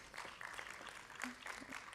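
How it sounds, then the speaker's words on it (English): An audience at a medical conference applauds a speaker, a soft, distant patter of many hands clapping steadily for about two seconds, faint and continuous. "kindly give a big round of applause to Dr."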